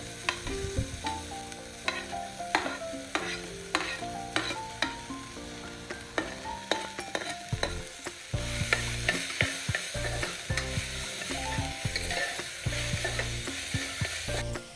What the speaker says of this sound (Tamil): இப்போ பச்சை பட்டாணி, ப்ரோக்கோலி, பீட்ரூட், கொத்தமல்லியில சேர்த்து மிக்ஸ் பண்ணி விட்டுக்கோங்க.